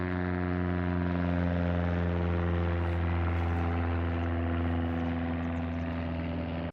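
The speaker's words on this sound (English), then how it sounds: "probably you heard all these seaplane" Steady drone of a seaplane's propeller engine passing overhead, loud and continuous throughout with strong low harmonic tones, on a city street with no talking.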